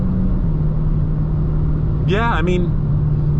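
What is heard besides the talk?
Dodge Challenger Scat Pack 392 engine while cornering at speed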